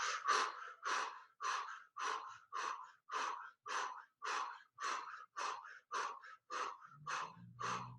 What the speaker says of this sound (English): Breathing in, out,